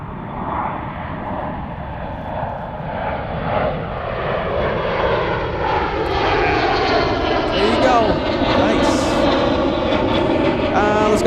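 A jet airliner taking off at Zurich airport, a steady broad engine roar that swells and builds over several seconds, heard from a plane-spotting spot with people talking faintly in the background.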